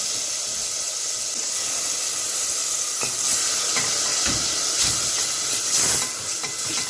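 Tomato juice hits a hot pan and sizzles loudly and steadily, with a bright hiss, bursts of spitting and soft scraping stirs near the end.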